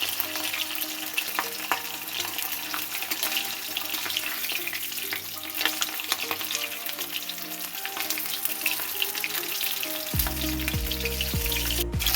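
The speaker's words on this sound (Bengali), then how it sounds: "এর মধ্যে আমি ইলিশ মাছের যে মাথাটা ছিল সেটা আমি হালকা করে ভেজে নেব।" Hilsa fish head frying in oil in a wok, a steady close sizzle and crackle running continuously at moderate level, with a few stirring scrapes and no speech.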